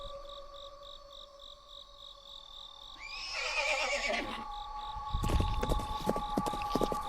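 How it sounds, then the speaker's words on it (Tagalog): A horse's neigh rises and shakes for about a second over a steady electronic hum in a scene in the woods at dusk, followed by a few hollow thumping steps. "Parang may naglalakad na kabayo."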